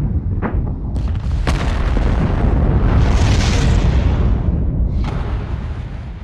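A detcord charge detonates on a SpaceX Starship test tank at a test range, a loud sharp blast followed by a heavy rolling rumble and a second crack near the end, with no voices.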